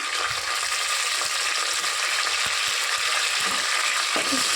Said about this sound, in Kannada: ಹಸಿರು ಮೆಣಸಿನ್ಕಾಯಿ ಪುದೀನ ಸೊಪ್ಪು ನಾನು ಎಣ್ಣೆಗೆ ಸೇರಿಸ್ಕೊತಾ ಇದ್ದೀನಿ